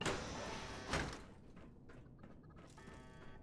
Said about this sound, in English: Why are the doors just opening all of a sudden?